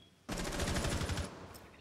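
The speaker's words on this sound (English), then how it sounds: "Oh, taking gunfire now." Rapid automatic gunfire in the video game Rainbow Six Siege, a loud burst of closely spaced shots lasting about a second, then fading into quieter echo.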